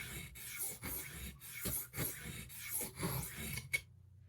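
An Old Forge D2 stockman pocket knife blade scrapes across a sharpening stone in a steady series of close, raspy strokes, each stroke separated by a short gap, with one sharp tap and then quiet at the end.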